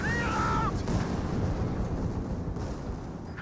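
A Panzer IV is destroyed amid the battle in Company of Heroes 2: a heavy, rumbling explosion and dense artillery-like gunfire continue loudly throughout, with a brief whistling tone near the start.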